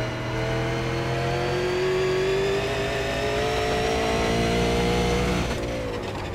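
Super Late Model race car engine in iRacing at Thompson, loud and continuous, revving steadily higher through the gears before a brief lift near the end, with no voices over it.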